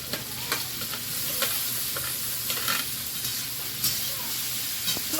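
Chopped garlic, onion and green chilli fry in a pan, giving a steady close sizzle with repeated scrapes and stirs of a spatula throughout.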